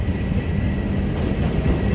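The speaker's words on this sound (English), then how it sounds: "there's a train going by" A train rolls past nearby in Kyrgyzstan, a loud, steady low rumble with rail noise that holds for the full two seconds, with no talking.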